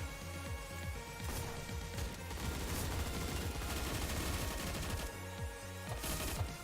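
Dense video game gunfire from surviv.io rattles continuously, with rapid overlapping shots and bursts forming a busy, loud barrage that never lets up, and no voices.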